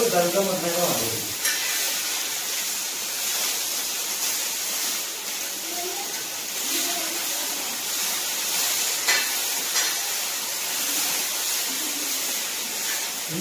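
Chili peppers frying in a pan give a steady, bright sizzling hiss that runs throughout, with a few clinks and scrapes from stirring and occasional talk in the background.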